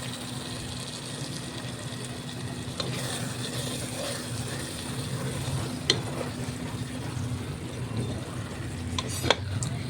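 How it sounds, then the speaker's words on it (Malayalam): Crab roast masala sizzling and frying steadily in a pan, a continuous soft crackle with occasional clinks of a stirring spoon, close and moderately quiet. "അത് നല്ലോണം റോസ്റ്റായി കിട്ടാൻ വേണ്ടിയിട്ട് വെയിറ്റ് ചെയ്യാം"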